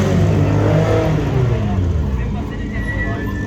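BMW M3 rally car on a rally stage in Cap Corse, Corsica, roaring loudly past at close range, its engine note sustained and gradually fading, with a voice talking over it.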